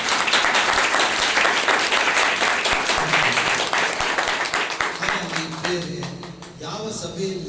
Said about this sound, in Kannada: ಒಂದ್ಸಲ ಎಲ್ಲರೂ ಏಸಪ್ಪ ಚಪ್ಪಾಳೆ ಹೊಡೆಯುವೆ